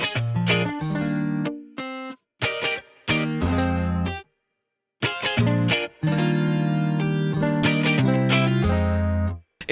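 Dry electric guitars playing an indie pop riff with no effects processing, plucked notes and chords in short phrases separated by brief gaps, close and clear with no voices.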